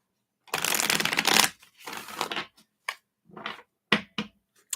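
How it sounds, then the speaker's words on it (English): A deck of tarot cards is shuffled in several quick, crisp bursts: one long riffle followed by shorter flutters and a few sharp snaps, close up with no talking. "Let's give these a shuffle here."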